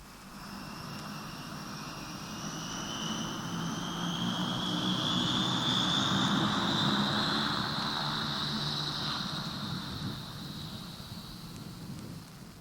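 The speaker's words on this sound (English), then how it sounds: "That was a Viscount, the first jet prop airliner in the world." A Vickers Viscount turboprop airliner takes off, a rising, swelling engine roar with a high whining propeller-turbine tone that builds to a peak midway and then fades as it departs.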